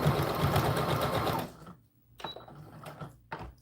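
A domestic sewing machine stitches a doll dress bodice, running steadily, then pausing before short bursts as it reverses and goes forward again, close and clear.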